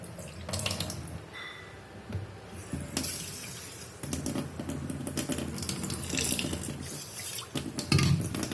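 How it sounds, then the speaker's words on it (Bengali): A handful of rice washed under running tap water in a kitchen and drained, with a steady splashing stream, water sloshing and occasional clinks of a bowl, close and alone. "এখানে আমি আমার হাতের মাপে 1 মুঠ চাল অর্থাৎ অল্প 4 ভাগের 1 ভাগ একটা চাল নিয়ে ধুয়ে জল ঝরিয়ে রাখবো।"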